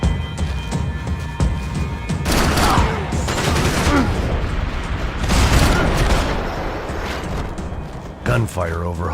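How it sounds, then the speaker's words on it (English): Rapid bursts of video game gunfire in Max Payne 3 crackle and boom throughout, layered and loud, with a voice speaking near the end. "Gunfire over Hoboken."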